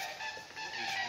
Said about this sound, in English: Did you guys hear that? It's like, quack, quack, quack, quack.